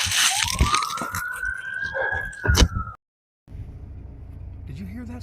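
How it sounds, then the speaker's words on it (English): An emergency vehicle siren rises in a long sweeping wail over nearby traffic and rumble, then cuts off abruptly, with low engine noise continuing afterward. "Did you hear that siren?"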